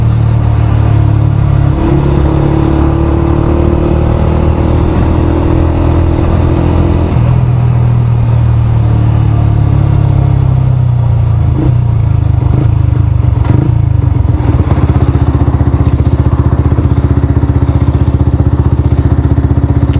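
Road traffic rumbles past a stopped motorcyclist in a lay-by, with a loud, close idling engine droning beneath vehicles passing and clattering by, continuous and without talk.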